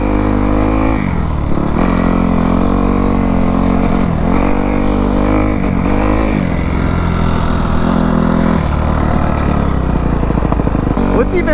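A loud Kawasaki KX250F dirt bike engine drones and revs up and down continuously at close range while riding, with a voice talking over the engine.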